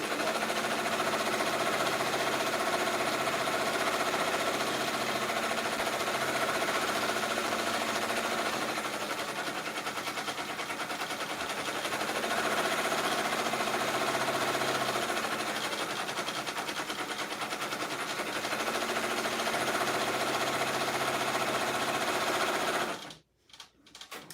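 A home sewing machine runs steadily while stitching fabric, including a backstitch, with a loud, continuous motor whir that holds for over twenty seconds and then cuts off abruptly near the end; no one speaks.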